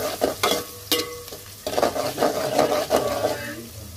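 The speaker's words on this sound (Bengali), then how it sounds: "বসাবো, এই জন্য তেল আর পেঁয়াজ দিলাম।" Onion fries in hot oil in a pan, a sizzle broken by intermittent scraping stirs from a spatula, close and moderately loud.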